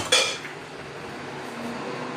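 Eggs, oil and yogurt poured into a bowl of sugar-free, flourless cake batter, opening with a sharp clink of a container against the bowl, then a quiet, steady pour with faint scraping.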